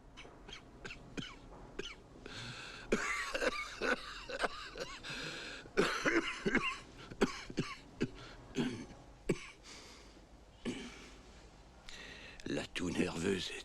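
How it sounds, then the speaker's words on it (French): Nervous coughing in a 1990 French film about Dr. Norman Bethune comes as many short, harsh, irregular bursts, close and fairly faint, mixed with speech. "La toux nerveuse est un hors-d'œuvre"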